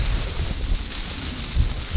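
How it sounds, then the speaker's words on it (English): Heavy rain drums steadily on a tent during a stormy Scottish camping trip, a dense continuous hiss with low rumbling gusts, close and constant with no voices. "It's supposed to stop raining. Clearly hasn't."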